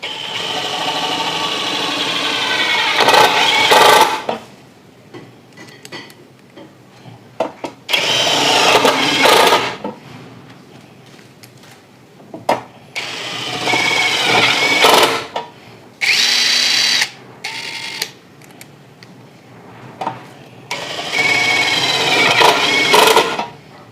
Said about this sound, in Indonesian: tadi kita sudah menguji impact driver produk dari Nagawa ini